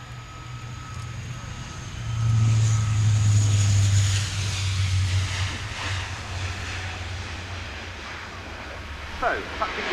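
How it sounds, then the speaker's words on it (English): A Lockheed Martin F-35B Lightning II jet of a US Marine Corps squadron comes in to land, its loud engine roar swelling and holding for a few seconds before easing into a steady rumble over wind-like noise. "Thus into land the Lockheed Martin F-35B Lightning II from VMF AT 501 of the US Marine Corps"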